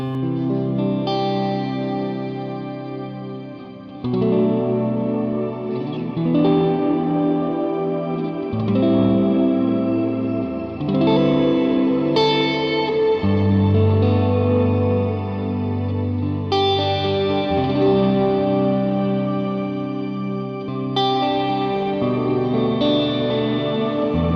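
An electric guitar plays slow, ringing chords through a Black Country Customs Secret Path reverb pedal with ambient shimmer, each strum blooming into long, washy tails that overlap as new chords arrive, loud and alone.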